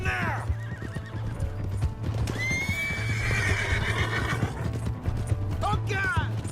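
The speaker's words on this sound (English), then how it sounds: "Hey, that's my horse!" A horse in the video game Red Dead Redemption 2 neighs at close range, with steady galloping hoofbeats clip-clopping underneath throughout and a second whinny near the end, with faint voices in the mix.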